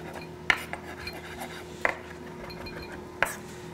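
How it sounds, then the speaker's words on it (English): Knife slicing through tomato fillet on a board, three crisp clicks spaced about every second and a half with light scraping between, quiet and close, no talk. "And just run our knife through it."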